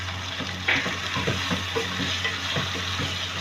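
Mutton sizzling in a pan with garlic and ginger over half-cooked onions: a constant loud frying hiss broken by the soft scrapes and clicks of stirring, up close with no voices.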